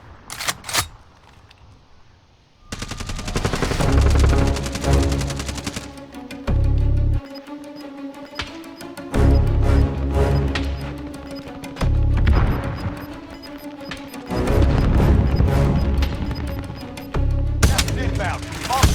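Gunfire in the video game Warzone, loud rapid bursts and single shots cracking close by in repeated clusters with brief gaps, over game noise and a player's voice.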